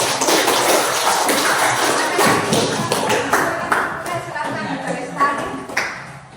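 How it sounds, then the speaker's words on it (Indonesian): Students in a classroom give a short burst of scattered hand clapping for their classmates, close and uneven, fading into separate claps toward the end. "Ya, tepuk tangan untuk teman."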